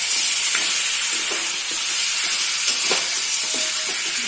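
Chicken pieces frying with onion and turmeric in a hot pan, loud constant sizzling punctuated by repeated scraping and clinking strokes of a stirring utensil, no talking.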